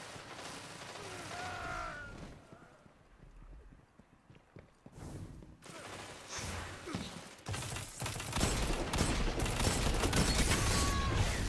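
Gunfire rattles through a Destiny 2 PvP match in dense mechanical bursts and clattering reports, layered with game effects and rising to a loud, sustained barrage toward the end.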